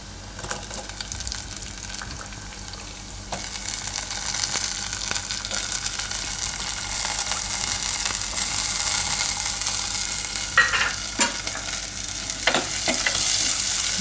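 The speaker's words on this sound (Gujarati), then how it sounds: "હવે આમાં નાખી દઉં આપણે આ ડુંગળી" Onion goes into a pot of hot oil for a Gujarati matka Maggi tadka and fries with a steady, rising sizzle, while a utensil stirs and scrapes it now and then. There are no voices.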